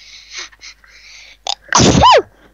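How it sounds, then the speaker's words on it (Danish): A single loud, close sneeze bursts out sharply near the end, following quieter breathy sounds and a brief gasp before it. "Jeg nøs lige headsetet af."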